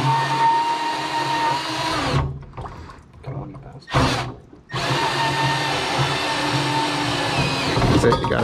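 Milwaukee portable bandsaw cutting through plumbing pipes, a steady close motor whine that drops out briefly mid-cut and then resumes.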